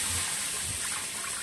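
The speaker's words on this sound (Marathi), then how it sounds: "तर हा तवा गरम आहे, पण आपण आता त्याच्यात थोडंसं पाणी टाकलं" Water poured onto a hot griddle (tava) to cool it gives a steady, loud hissing sizzle with a bright, continuous spray-like wash throughout.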